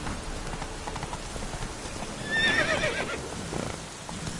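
Roach, a horse in the video game Witcher 3, gives a clear whinny partway through over a steady patter of hooves, with faint rain-like hiss in the background.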